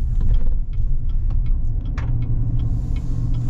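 A 2022 GMC Sierra 1500 SLT pickup with the 6.2-litre V8 drives along, a steady loud low engine and road rumble with faint ticking clicks from the cabin and no talk.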